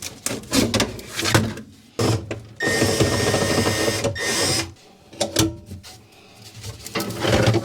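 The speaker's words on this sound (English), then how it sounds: "we can take off this vent hose here" Pulling a flexible vent hose off the back of a Kenmore 500 Series gas dryer makes loud crinkling, scraping and clattering rustles, in irregular bursts with a sustained crumpling stretch in the middle, close by.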